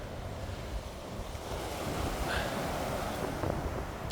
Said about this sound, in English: Thought I'd make a video down by the beach